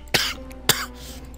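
Two distinct coughs from a character in Infinite Space on the Nintendo DS, about half a second apart, close and fairly loud, with a low steady hum underneath.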